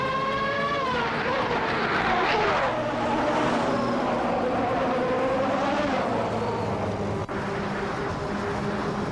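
Race cars, including a 1991 Chevrolet Intrepid RM1, roar through a video game race in a dense, sustained engine drone with rising and falling pitch as the pack runs close together.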